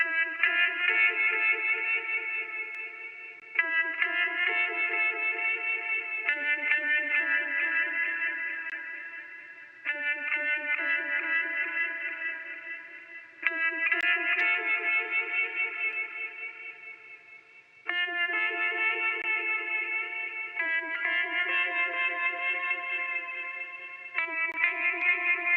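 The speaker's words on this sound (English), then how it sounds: "for the vibrato, I used the U Vibe and kind of just really cranked up the depth and the mix on that to really give it the warble effect" Sustained electric guitar chords of the Silent Hill theme, treated with a U-Vibe pedal set to deep, fully mixed vibrato, so each held chord warbles and wobbles in pitch; phrases change every few seconds and swell then fade, with no voices.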